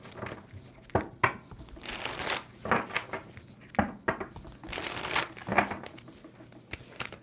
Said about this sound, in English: 2 more shuffles for Gemini.